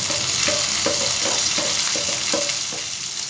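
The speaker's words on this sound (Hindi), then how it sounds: "तो अब ये प्याज डालेंगे इसमें" Onions frying in a pan for dal: a loud, steady sizzle close by, broken every half second or so by short rhythmic scrapes of stirring, with no talking.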